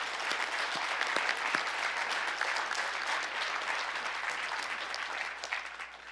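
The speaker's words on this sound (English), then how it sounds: "Please join me first in a round of applause for all our presenters." Sustained applause from a conference audience honoring the presenters, a dense, steady clatter of many hands that holds throughout and tapers slightly at the end.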